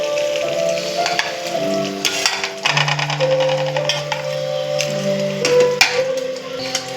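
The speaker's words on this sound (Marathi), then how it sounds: "1 चम्मच असं भरून जिरा टाकूया." Cumin seeds dropped into hot oil and butter in a pan for masala pav bhaji, a steady crackling sizzle with light clinks of a spoon under background music.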